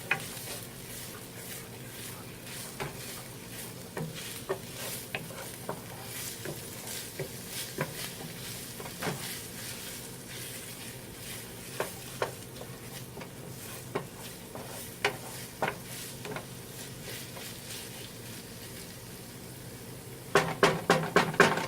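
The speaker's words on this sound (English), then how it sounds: "Let these onions sweat a little bit." Onions sweating in a pot for ground beef stew give a soft continuous sizzle, punctuated by regular spoon stirs and scrapes, with a burst of clattering at the end and no talk.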